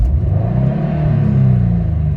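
Subaru STI turbocharged engine revving heard from inside the car, a loud steady low rumble with rising harmonic drone as revs climb, no talking.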